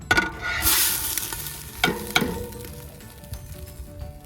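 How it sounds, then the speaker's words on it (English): Beef dropped into a hot pot over a campfire with onion and bay leaves, a sharp burst of sizzling hiss followed by a few utensil knocks and a softening crackle. "Now add the beef."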